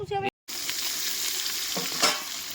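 Three kilos of brinjals hit hot oil in a large pot, starting a loud, steady sizzle right after a brief silent cut, with a few stirring scrapes.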